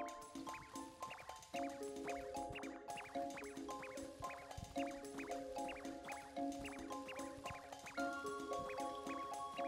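Water drips in the video game Super Mario Galaxy, rendered as bright, rhythmic plinking tones repeating over a soft watery bed, quiet and steady throughout, with no voice.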